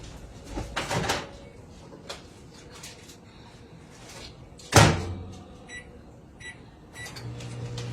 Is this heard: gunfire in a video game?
no